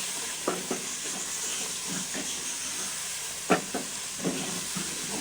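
Garam masala and ground dried coriander roast in a pan while making kadhi pakora, giving a steady soft sizzling hiss with a few faint scrapes and stirring clicks throughout.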